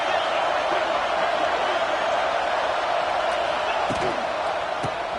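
Roar of a stadium crowd during an NCAA football video game, a dense, steady wash of cheering that holds at a constant loud level throughout, with faint scattered thumps and shouts inside it.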